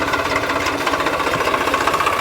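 Tractor engine running on a farm, a loud, dense, knocking mechanical rumble with rapid rattling pulses, steady and close throughout, with no talking.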